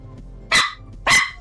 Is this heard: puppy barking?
yes